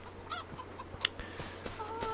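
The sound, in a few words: chickens clucking in Farming Simulator 25 video game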